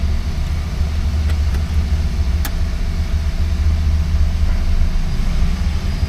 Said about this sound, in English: That's a cold start, fired right up.